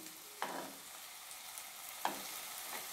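Half-boiled eggs mixed into curry in a pan, a faint ongoing sizzle broken by two distinct scraping strokes of a spoon, heard close and quiet with no talk.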